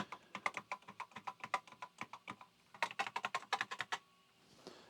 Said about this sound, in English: Yep, all the keys work perfectly on this thing.